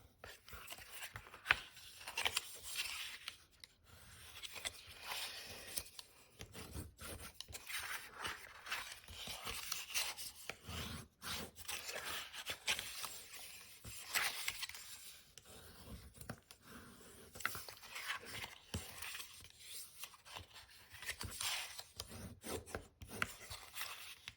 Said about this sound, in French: Et maintenant, on va pouvoir procéder donc au pliage.